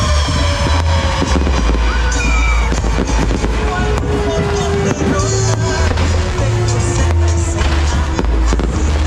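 Fireworks explode outdoors during a street celebration in León, Nicaragua, loud dense crackling bursts and bangs going off continuously, with crowd noise and a faint whistling trail in the mix.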